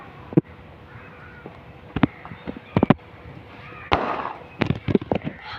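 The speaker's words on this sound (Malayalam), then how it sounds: "ഇനി നമ്മൾ പടക്കം പൊട്ടിക്കാൻ പോകുന്ന ജോലിയിലാണ്." A homemade firecracker goes off as a series of sharp, loud cracks and pops, scattered irregularly over a few seconds against a quiet outdoor background.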